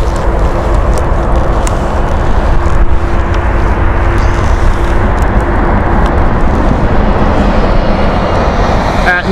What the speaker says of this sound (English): Listen to the noise that Airbus A380 is making on reverse thrust